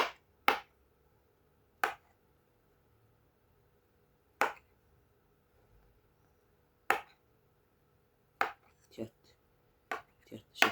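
Sharp knife chops vegetables for salad on a cutting board, single strokes spaced seconds apart, then a quicker cluster near the end, close and otherwise quiet.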